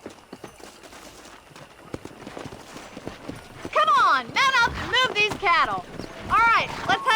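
Horse hooves clip-clop steadily as a rider travels in the Red Dead Redemption western game, a close rhythmic trot, with voices talking over it during the second half.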